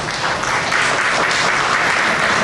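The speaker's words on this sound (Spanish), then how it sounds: "Aplausos, por favor." Steady, dense applause from an audience at a Spanish-language talk on radiofrequency and biodiversity, loud and continuous with no voices over it.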